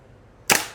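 A single sharp, loud airsoft rifle shot fired in semi-auto mode, close by, following a moment of quiet room tone.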